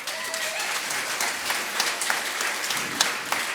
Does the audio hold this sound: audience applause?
yes